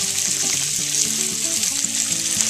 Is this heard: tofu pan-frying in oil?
yes